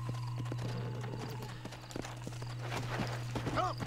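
Horse hooves clip-clop at a steady gait in the Red Dead Redemption video game, mixed with game sounds and a low steady hum, with a brief whinny-like sweep near the end.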